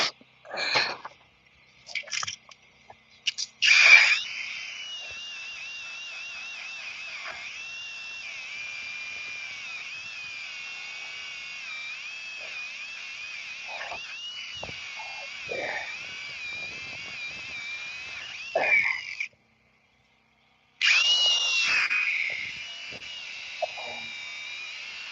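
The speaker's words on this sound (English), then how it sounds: "I'll hit it with the angle grinder." Angle grinder cleaning up broken trailer metal before welding: after a few short knocks, a steady high whine of the grinder runs for about fifteen seconds, pauses briefly, then starts again loud and close.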